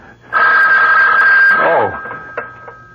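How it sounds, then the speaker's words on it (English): A telephone rings in a radio drama, a sustained electric bell tone ringing loudly for over a second before cutting off, followed by faint voices talking. "The phone."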